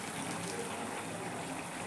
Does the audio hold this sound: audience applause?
no